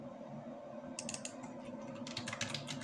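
Someone types on a computer keyboard, a quick run of soft, close key clicks that begins after a short quiet stretch and picks up again in a denser burst toward the end.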